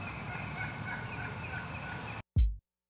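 A wild turkey gobbler sounds one loud rattling gobble after a steady bed of outdoor ambient noise, the call close and abrupt near the end.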